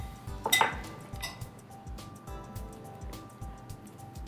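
A spoon stirs pasta salad with cheese and vegetables in a bowl, giving light clinks and scrapes, strongest early on and then softer and irregular.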